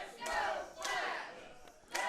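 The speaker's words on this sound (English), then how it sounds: "Crowd trying to rally behind Flash Flanagan." A wrestling event crowd yells and cheers in swelling waves, a few loud bursts of shouting rising over a steady distant roar, with no clear talk.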